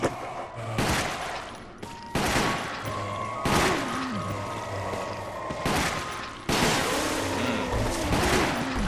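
Repeated gunshots from the video game Resident Evil Chronicles: sharp, loud bursts fire every second or two over a continuous background of game sound.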